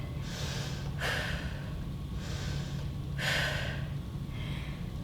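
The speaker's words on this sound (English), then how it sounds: "We're catching our breath again." Heavy, rhythmic breaths during a cool-down stretch after a HIIT workout, several loud huffing exhales in a steady pattern, close to the microphone with no talking over them.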